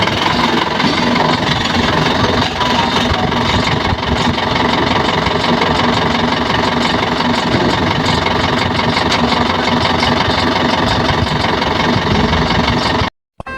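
A vehicle engine idles close by, with a loud, steady low rumble and faint knocking vibration throughout, ending in a brief drop near the end.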